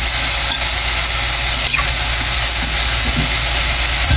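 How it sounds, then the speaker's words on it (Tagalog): Bean sprouts (togue) stir-fried alone in a hot pan, giving a loud, continuous close sizzle with faint scraping of stirring throughout and no talking. "Ilagay na natin guys yung ating toge."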